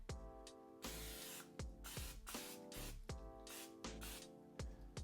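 Cooking spray hisses onto a hot griddle in repeated short, loud bursts, each one sharp at the start and quickly dying away.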